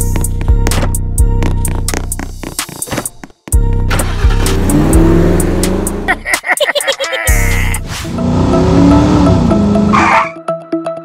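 Car engine in the Roblox Brookhaven game starting and revving loudly in bursts, with sharp cuts and surges, a brief gap midway, and other game sounds layered in.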